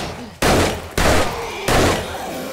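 Gunfire in 7 Days to Die Alpha 21: three loud, close shots a second or so apart, each a sharp blast that rings on briefly before the next.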